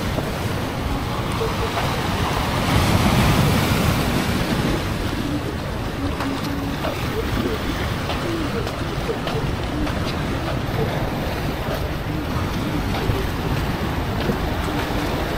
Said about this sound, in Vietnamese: dạng đá mà sóng biển vỗ dập dào, trước mặt là biển